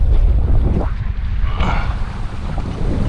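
Wind gusts steadily across an open fishing boat at sea in the heat, making a continuous rushing, buffeting roar close to the microphone, with no voices.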